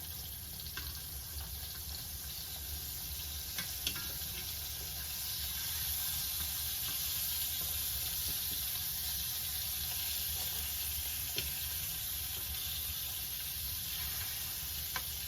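Liver sizzles and fries steadily in a hot pan for smothered liver and onions, a continuous, fairly loud crackle with no talking.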